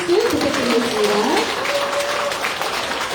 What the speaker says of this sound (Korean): 여러분 다시 한번 뜨거운 박수 부탁드리겠습니다.